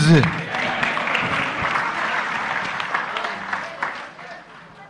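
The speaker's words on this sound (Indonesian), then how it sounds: "Oke, tepuk tangan untuk Gus Muz." A crowd at a gathering applauds a guest, a full burst of clapping that stays strong for a few seconds then fades out, with a voice briefly heard at the start.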